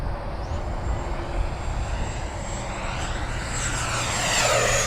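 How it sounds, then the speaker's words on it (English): An E-flite F-16 70mm electric ducted-fan RC jet makes a fast pass over a runway, a steady loud rushing whine that swells and grows brighter toward the end as it comes closer, heard alone outdoors. "let's come by fast again, Steve, over the runway."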